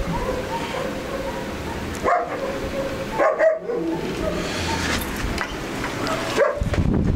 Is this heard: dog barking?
yes